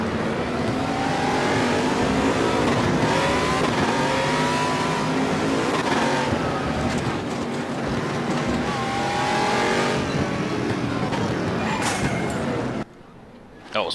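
A race car in the RaceRoom racing game roars along with a steady, loud engine drone, rising revs and a touch of tire squeal as it skids, running continuously until it cuts out abruptly near the end.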